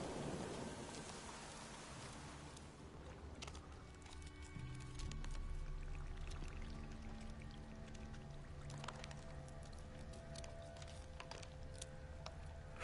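Bubbling and crackling ambience in The Witcher 3: a steady, rain-like wash of fizzing and popping with scattered sharp crackles and a low rumble, continuous throughout with no talk.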